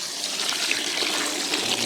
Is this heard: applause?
no